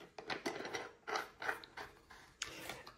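A rigid lamp-fitting blade being screwed onto a vase, a series of faint quick ratcheting clicks and creaks in an irregular rhythm, close by and quiet.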